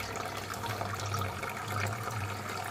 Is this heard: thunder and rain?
no